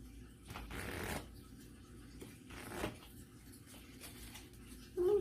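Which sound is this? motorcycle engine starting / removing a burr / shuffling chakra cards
shuffling chakra cards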